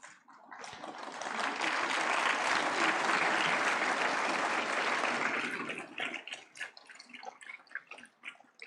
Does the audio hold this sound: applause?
yes